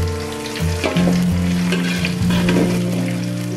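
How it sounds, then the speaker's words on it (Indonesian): Spring onion and ginger stir-frying in a pan, a steady loud sizzle with light stirring scrapes throughout, no talking, while other ingredients cook in the oil. "Aduk-aduk sampai dia ini wangi."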